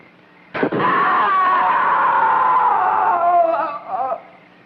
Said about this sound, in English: Sure, I heard a scream.